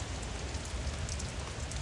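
Light rain falls steadily onto surfaces outdoors, making a soft, even patter with no pauses. No voices are heard.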